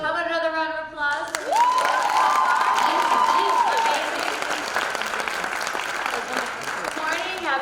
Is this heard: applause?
yes